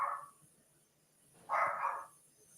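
A dog barks somewhere off in the distance indoors, two muffled barks with a pause between them, faint against a quiet room.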